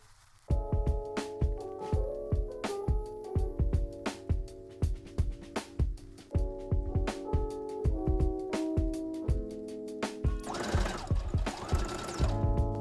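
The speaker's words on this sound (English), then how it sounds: "I'm going to pin it all the way along the neckline like this, and then I'm going to do a basting stitch across it" A sewing machine runs a basting stitch along the ruffled neckline of a dog dress, its fast mechanical hum starting and stopping in repeated bursts, with a louder rattling stretch near the end.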